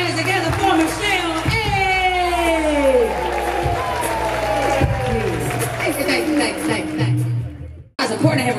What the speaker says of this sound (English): Put your hands together for Michelle.